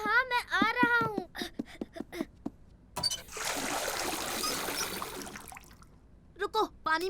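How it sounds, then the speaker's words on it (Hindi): Water trickles and splashes steadily for a few seconds to wash off a stain in a Hindi children's cartoon, framed by cartoon children's voices talking before and after. "हमें इसे पानी से धोना होगा।"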